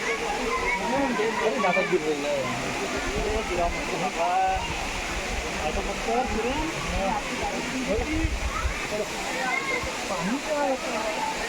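Muktai waterfall in Chimur taluka pours with a steady, even rush of water, heard under a busy mix of nearby voices chatting throughout.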